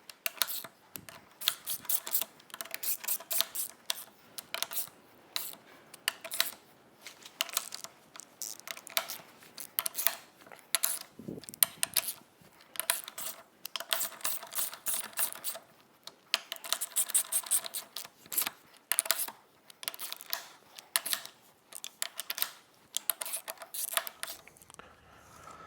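A ratchet clicks in rapid bursts while tightening the front hub bolts on a Ford 7740 tractor. Each close, crisp run of clicks is followed by a short pause as the work moves around the bolts.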